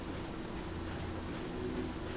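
A train in the Ratchet and Clank video game rumbles steadily and close throughout, a dense continuous noise with a faint rhythmic rattle and no talk.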